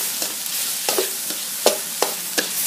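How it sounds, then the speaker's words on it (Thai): Ingredients for nam prik ong, including tomatoes, stir-fried in a pan, with soft intermittent sizzles and a few sharper scraping stirs spaced irregularly under a low steady background hiss. "ก็ใส่ทุกอย่างลงมาแล้วก็ผัด"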